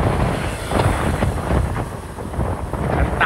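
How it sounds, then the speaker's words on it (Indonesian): Strong wind buffets the microphone during a motorbike ride on the Probolinggo highway, a rough, gusty rumble that rises and falls continuously at close range. "Anginnya sangat kencang."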